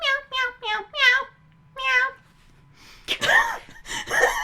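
Several people imitate cat meows with their voices, a quick run of high, voiced meows followed by a pause, another meow, then louder, rougher meowing voices close up.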